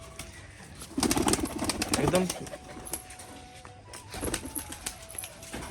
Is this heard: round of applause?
no